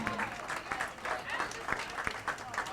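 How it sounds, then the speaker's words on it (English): Steady crowd applause at a college women's bowling championship, with scattered louder claps, sustained throughout, with a faint voice murmuring underneath. "let's give these ladies a round of applause for the all-tournament team"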